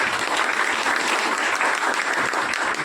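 An audience at a seminar in Udaipur claps loudly and continuously, a dense, even roar of many hands that holds steady throughout with no talking over it.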